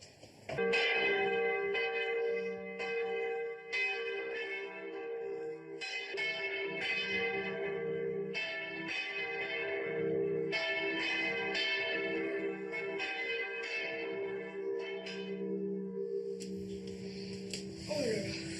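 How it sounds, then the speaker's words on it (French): Church bells rung by hand, several pitched bells clanging in overlapping rhythmic peals that ring out and sustain over about eighteen seconds, loud and near, with brief speech at the start. "Qu'est-ce que tu ressens, Thomas, à chaque fois que tu fais sonner les cloches?"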